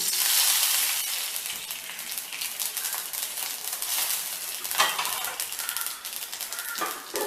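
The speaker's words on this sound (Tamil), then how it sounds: "கடுகு உளுத்தம்பருப்பு தாளிக்கிறேன்." Steady hiss of mustard seeds and urad dal lentils spluttering in hot oil, with faint pops and crackles running continuously throughout.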